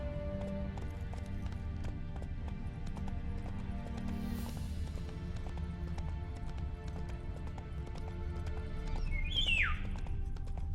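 Rhythmic horse hoofbeats clatter steadily over a droning background in Novigrad in the video game The Witcher 3, ending with a short, high horse whinny near the close.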